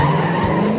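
A car skidding hard under locked brakes during a driving test, a loud, steady screech of tires sliding on pavement that holds for the whole moment with no voices.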